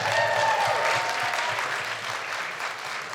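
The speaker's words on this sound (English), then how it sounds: "Round of applause for you." Festival audience applauding in a steady wash of clapping that holds throughout, slightly louder at the start, with no one speaking over it.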